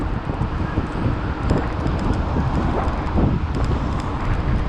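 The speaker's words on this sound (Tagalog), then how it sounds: "Ang hangin lakas." Strong wind gusts outdoors along a road, a continuous rushing roar buffeting the microphone at fairly even loudness with a few faint higher clinks in the background.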